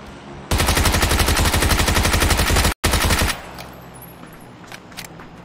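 Rapid bursts of shotgun fire from a video game, a loud sustained volley of closely spaced blasts cutting off abruptly, then a short quieter tail with faint clicks and ambient game noise.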